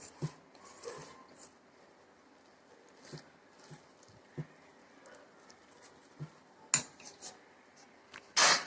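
Thickening cream is stirred in a pot while making homemade ghee, giving sparse close scrapes and metal clinks of a spoon against the pot, with a sharper clatter near the end.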